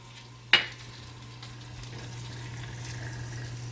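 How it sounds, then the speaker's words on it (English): Shallots drop into melted butter in a pot with a soft splash, then sweat with a faint, steady low sizzle that builds gently, no voices. "We're going to add the shallots to the pot"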